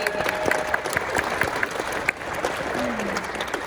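An audience at a theatre Q&A gives a dense round of applause, many hands clapping steadily together, with voices talking over the clapping.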